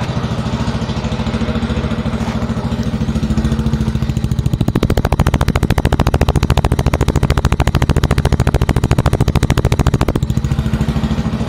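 A Honda GL motorcycle engine idles steadily up close, then revs into a louder, rapid staccato putter for several seconds before easing back.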